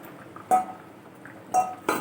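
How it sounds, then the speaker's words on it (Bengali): Fried paneer pieces drop into a simmering chana paneer masala gravy in a pot, giving three sharp metallic clinks spaced about a second apart against a quiet bubbling background, close by and with no voices. "কিছুক্ষণ সেদ্ধ হয়ে যাওয়ার পর দিয়ে দিলাম ভেজে রাখা পনিরগুলো"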